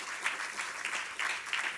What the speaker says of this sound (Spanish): Den un aplauso fuerte al Señor en esta hora.